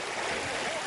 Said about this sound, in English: Walking through water up to his knees is the only way Tyler Morris can get into his home.